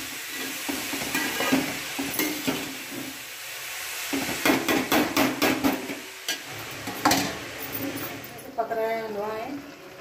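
Carrot halwa (gajar ka halwa) being stirred in a pan, with a spoon scraping and clinking against the metal in an irregular rhythm over a steady sizzle, close and fairly loud; a voice speaks briefly near the end.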